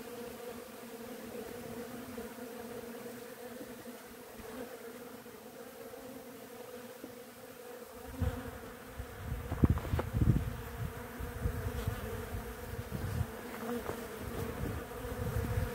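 Bees buzz steadily around flowering Garibaldi hazelnut catkins, a continuous drone of many insects that grows louder and closer after the midpoint as individual bees pass near, with no voices.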